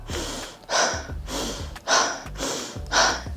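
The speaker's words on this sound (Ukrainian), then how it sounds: "Дуже багато людей дихають ось так." A person demonstrates shallow, incorrect breathing: six quick, loud, gasping breaths in a steady rhythm, alternating inhale and exhale, close up with no talk.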